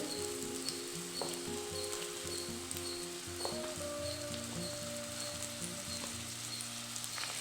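Chopped large onion sizzles in hot oil in a pan, a steady close crackling fry with small pops and faint stirring scrapes throughout, no voices.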